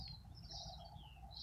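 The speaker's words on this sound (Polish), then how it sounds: "Ptaki śpiewają, jest jeden wielki gwar poranny" Birds sing in a flower garden on a fine morning, with repeated high chirps and tweets over a soft background murmur, fairly faint and fairly distant, and no talk.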